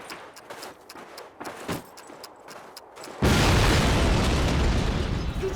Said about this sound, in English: We need to blow up that flak gun.